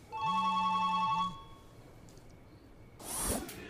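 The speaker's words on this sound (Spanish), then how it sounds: "Está sonando el celular." A mobile phone rings with a short electronic tone, two bursts lasting about a second in total, clear and near, followed by quiet room noise and a brief rustling sound.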